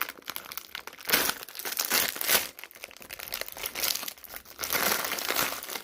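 Someone opens a crinkly surprise box package up close, and loud crumpling and crinkling comes in irregular bursts with brief pauses between them. No one speaks.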